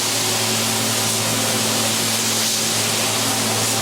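Steady, loud hiss of a spray gun continuously applying clear coat to a wooden entry table, a broad even rush with a low hum underneath and no talking.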